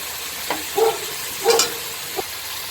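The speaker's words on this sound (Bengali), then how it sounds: "মাছের মাথাগুলো এবার দিয়ে দিচ্ছি।" Fish heads frying in a pan for a pui shak dish make a low sizzle broken by a couple of brief spatula scrapes and clinks, close by and without speech.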